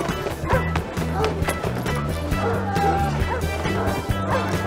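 Greyhounds at a flapping race meeting bark in quick, repeated yaps against a busy crowd, with voices talking throughout.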